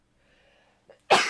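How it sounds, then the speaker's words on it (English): A single close, sharp sneeze bursts out near the end after a moment of near silence and a faint intake of breath. "I'm gonna sneeze, hold on."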